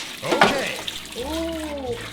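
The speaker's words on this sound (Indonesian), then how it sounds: "Airnya ini kencang banget teman-teman." Strong water from a kitchen tap gushes steadily as dishes and spoons are rinsed under it, with people talking over the running water.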